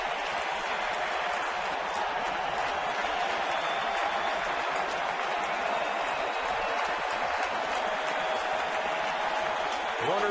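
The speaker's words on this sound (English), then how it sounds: "This standing room only crowd is absolutely roaring." A standing-room-only crowd at a Minnesota Twins 2010 ALDS baseball game roars in a steady, dense wall of cheering and applause that holds loud and unbroken throughout.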